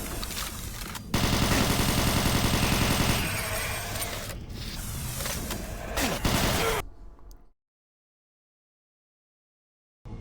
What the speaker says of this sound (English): I'm just shooting it now.